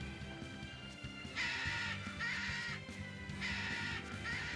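Crows cawing in Tales of Berseria, several harsh repeated caws in bursts over a steady game backdrop.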